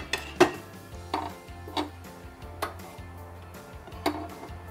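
A home kitchen gas stove's igniter clicks sharply about six times in an irregular row, each click crisp and close over a low background hum.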